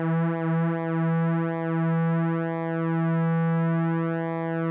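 A subtractive synthesizer holds a steady square-wave tone whose pulse width is modulated back and forth, giving a loud, continuous buzzy note with a slowly sweeping, phasing timbre, heard alone.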